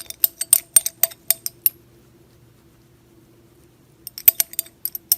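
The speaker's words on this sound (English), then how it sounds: "stirring." A glass rod or spoon stirs an NaOH extract acidified with HCl in a glass beaker, giving a quick run of bright clinks and taps, then a quiet pause before another burst of clinking near the end.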